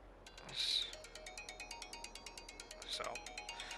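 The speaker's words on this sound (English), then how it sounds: "I apologize, that's my phone ringing." Phone ringtone chiming in a rapid repeating electronic pulse pattern throughout, moderately faint, with a brief spoken word and vocal sounds over it.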